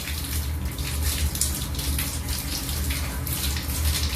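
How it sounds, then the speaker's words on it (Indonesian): Tap water runs steadily over both hands being wetted at a sink before a hand-hygiene routine, a continuous close splashing stream with no talk. "Selanjutnya saya akan membasahi kedua tangan saya."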